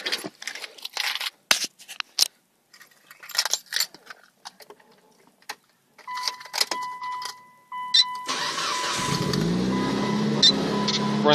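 A 2003 Mitsubishi Lancer Evolution 8 with an HKS GT2 turbo cranks and fires, then settles into a loud, steady idle, after clicks and rustling inside the car.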